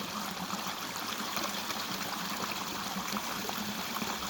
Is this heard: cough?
no